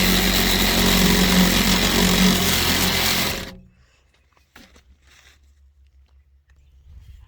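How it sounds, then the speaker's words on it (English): A saw fitted with a 9-inch combination wood-metal blade cuts through material, loud and buzzing for about three seconds, then stops abruptly, leaving quiet with a few faint knocks and rustles. "It's a combination wood metal blade. It's cutting pretty easy."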